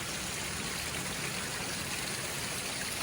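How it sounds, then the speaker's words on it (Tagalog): A small mini waterfall at a raw camping and fishing spot flows continuously, a steady rushing and trickling wash of water close by, with no voices. "thank you dito sa falls, mini falls"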